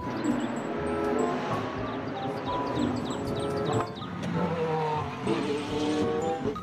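A toy race car from a collection of toy vehicles revs with a busy, whirring engine tone and some rattling clatter, fairly close and steady for several seconds.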